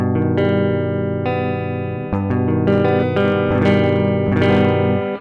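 Electric guitar strumming rhythm chords fretted with the index, middle and ring fingers, sustained ringing chords changing every second or two, close and fairly loud with effects-laden tone, no talking.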